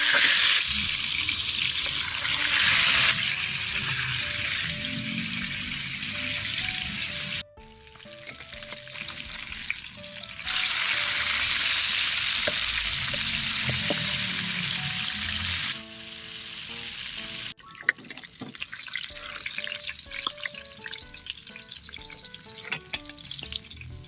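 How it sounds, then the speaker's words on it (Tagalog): Tilapia frying in hot oil for bistek na tilapia, a steady loud sizzle that drops abruptly around a third of the way in, then resumes with clatter and stirring noises, cutting out again near the end before returning. "Kain mantika. Lagay na natin yung tilapia."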